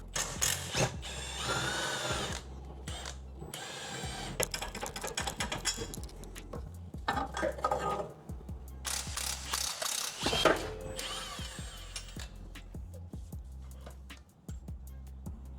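A ratchet wrench clicks rapidly while the motor mounts come off a Honda Civic EK engine being pulled. Bursts of close, loud ratcheting alternate with short pauses and metallic clanks.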